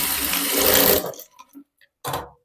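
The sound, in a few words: sewing machine stitching blouse shoulder seam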